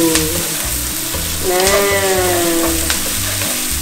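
Chili hits hot oil and fries with a loud, close, continuous sizzle that swells partway through as it bubbles hard, with a brief word spoken at the start.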